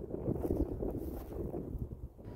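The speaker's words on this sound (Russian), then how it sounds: "Да, ветер, кстати, боковой." Steady crosswind buffeting the microphone outdoors during a DJI Mavic 3 drone flight, a low rumbling roar with gusty swells and no voices.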